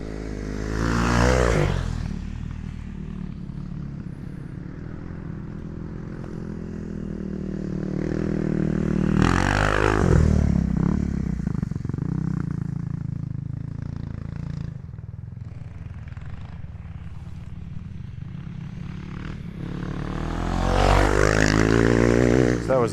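A Kawasaki KLX300R dirt bike fitted with an FMF Q4 exhaust passes by outdoors several times. The engine buzz swells loudly as the bike approaches and fades as it rides away, with quieter engine drone between the passes.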